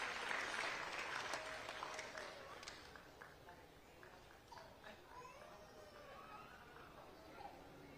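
A crowd at the Garudan film audio launch claps loudly for a couple of seconds, then the applause thins and fades while voices murmur and talk continues quietly.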